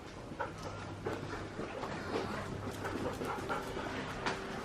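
Groodle puppies let out for a run pant and give small whimpers and yips, faint and somewhat distant over a soft background.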